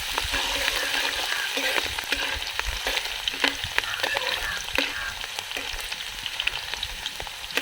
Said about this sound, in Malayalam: ഇതിലേക്ക് നമ്മൾ നേരത്തെ അരിഞ്ഞ് വെച്ച 2 കുടം വെളുത്തുള്ളിയും 1 ഇഞ്ചിയും നമുക്ക് ഇട്ട് കൊടുക്കാം കേട്ടോ